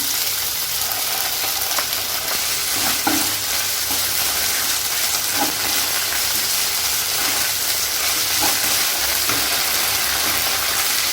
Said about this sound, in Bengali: হালকা ভেজে নেব।